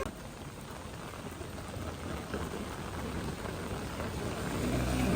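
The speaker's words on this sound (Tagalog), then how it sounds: "Igid ang ulan." Heavy rain pours down steadily outdoors, a dense continuous hiss of drops on surfaces that holds even and grows slightly louder toward the end, with no talking.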